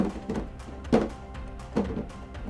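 A hollow plastic footrest is dragged across the floor, giving soft scraping with a few dull, hollow thunks at irregular intervals, fairly quiet and close by.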